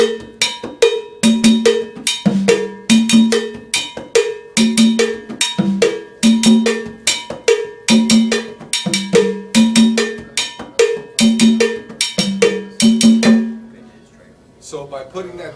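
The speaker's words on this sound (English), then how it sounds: "I would play my cowbell pattern with one hand, my tumbao pattern with the other hand." Hand-played cowbell in a band-style groove at a conga clinic, sharp metallic strikes in a steady repeating pattern mixed with conga tumbao tones, loud and close, fading at the end.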